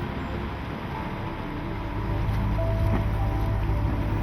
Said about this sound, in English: I start the engine and we cast off.